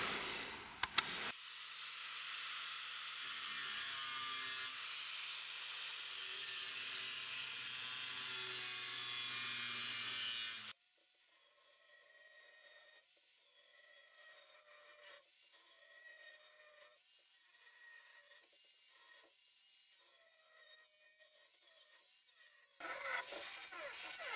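Sawing cuts a piece off an iron part from a plough for a heavy walk-behind tractor, a steady close rasping that runs for about ten seconds and then stops, leaving quiet.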